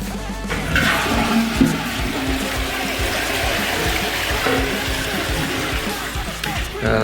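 A wall-hung toilet in a newly finished bathroom flushes with a loud, steady rush of water that continues without a break for several seconds, close by and with no talking.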